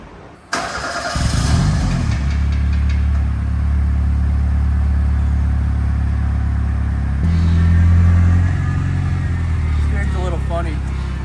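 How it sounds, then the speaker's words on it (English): A Ford SVO Mustang's engine turns over and catches with a sudden loud start, then settles into a steady, rumbling idle that swells briefly with a rev. People talk over it. "So let's get this thing on the road and experience the SVO Mustang."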